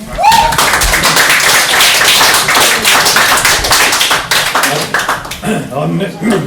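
Audience applause for a poet at a First Wednesday Series poetry reading, a dense burst of hand clapping that fills most of the clip at close range before thinning toward the end, with a voice talking over it.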